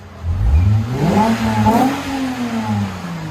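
A Lexus IS 250 2.5L fitted with a Megan Racing axle-back exhaust revs up close by, its deep engine note rising, holding and then easing back down, with no talk.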